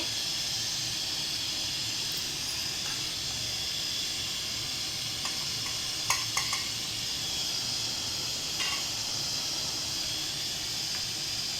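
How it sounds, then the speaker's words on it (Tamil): A steady, loud hiss of water boiling continuously in a pot under an idli steaming plate, with a few faint clinks, close by and without voices. "பாருங்கள், தண்ணி கொதிக்குது."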